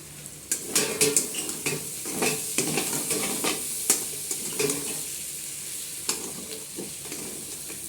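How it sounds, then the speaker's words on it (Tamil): Potato fry being stirred in a hot iron pan after pepper is added, with a spatula scraping and clinking in irregular strokes over a steady close sizzle of frying. "இப்போ நான் பெப்பர் போடுறேன்"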